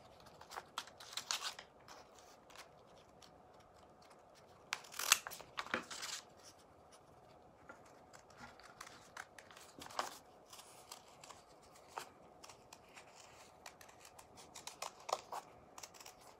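Sharp scissors snip through vintage sheet music and encyclopedia paper while a flower stem pattern is trimmed shorter, giving quiet, close, irregular clusters of crisp cuts with faint rustling and no talking.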